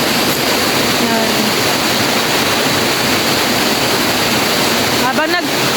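A forest river rushes past a picnic spot with a loud, dense, unbroken roar of flowing water, with faint voices briefly surfacing beneath the steady torrent.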